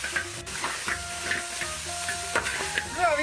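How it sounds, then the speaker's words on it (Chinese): Braised lamb hooves in chili sauce are stir-fried in a hot pan, a steady sizzle broken by repeated scraping strokes of the spatula and a few sharp clinks, close and loud with no voices. "翻炒均匀，给盐蹄入味。"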